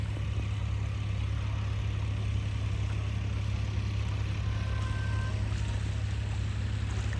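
Three tractors at work in a farm field, including a small Sonalika Solis, their engines producing a continuous low, droning rumble that holds steady throughout with no voices.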